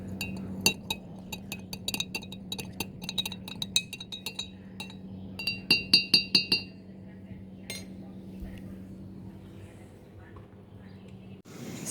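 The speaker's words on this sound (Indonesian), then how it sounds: "Kita aduk dan amati perubahan warnanya." A spoon stirs butterfly pea flower solution with vinegar in a glass, giving rapid clinking taps against the glass in two bursts, then quiet over a low background hum.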